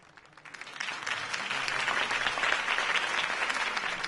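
Crowd applause for Harvey Dent's mayoral campaign speech in Batman: The Telltale Series, swelling from a thin start into a dense, sustained wash of many hands clapping at moderate distance.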